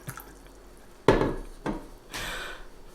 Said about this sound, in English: I'm gonna pour another glass of water just in case.